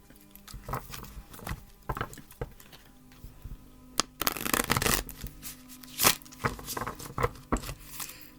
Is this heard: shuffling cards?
yes